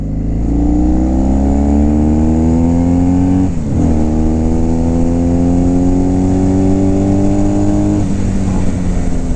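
A 1972 Yamaha XS2 650 parallel-twin motorcycle engine, carbs freshly synced, revs loud and close to about 6,000 rpm, climbing steadily, dipping briefly and then rising again in a long continuous wail with no one talking.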